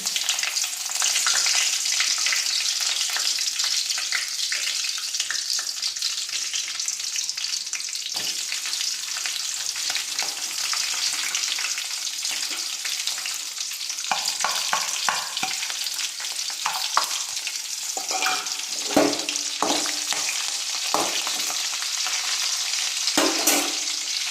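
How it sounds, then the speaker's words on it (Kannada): Mustard seeds and curry leaves splutter and crackle in hot oil during tempering, a steady close sizzle broken by sharp popping bursts that grow denser toward the end, with no voices. "ಈಗ ಸಾಸಿವೆ ಹಾಕಿ ಮಾಡೋಣ. ನಂಗೆ ಕರಿಬೇವಿನ ಸೊಪ್ಪು ಹಾಕ್ತಕ್ಕೂ ಭಯ ಆಗುತ್ತೆ, ಅದೊಂಥರ ಸಿಡ್ದು ಬಿಡುತ್ತೆ ನೋಡಿ"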